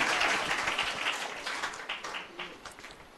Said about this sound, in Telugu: మనము గట్టిగా మరి ఒక్కసారి చప్పట్లు కొట్టి వారిని